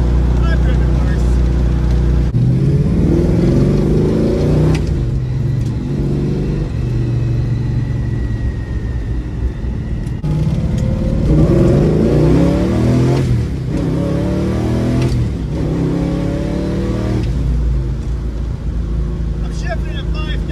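A car engine revs up hard through the gears, climbing to around 5,000 rpm before each shift, with repeated rising sweeps and brief dips between them. Someone talks over the droning cabin noise throughout.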